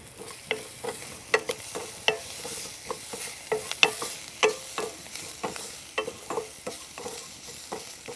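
Vegetables for a Kerala thoran sauté in a pan with salt, and a spatula scrapes and stirs in frequent uneven strokes over a low, steady sizzle.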